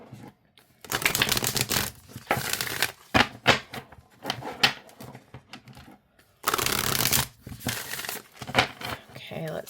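Light in the Darkness oracle cards being shuffled in several rapid, papery riffling bursts with short pauses between them, close and fairly loud.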